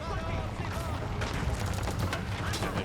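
Four bombards fire in a strategy video game, a dense, continuous barrage of overlapping booming blasts and crackling impacts that stays loud from start to finish.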